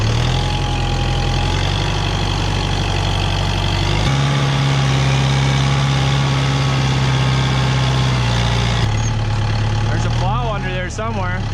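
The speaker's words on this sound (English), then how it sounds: "Pretty deep even for this 65 horse Kubota." A 65 hp Kubota tractor idles in deep snow, its low, steady diesel rumble loud and close throughout, shifting pitch partway, while someone talks over it.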